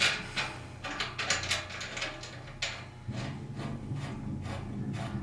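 A clamp is tightened on a 16 gallon Torpedo Pro still, giving close mechanical ratcheting and rubbing clicks in uneven bursts, then a steadier low grinding rasp toward the end, with no talking.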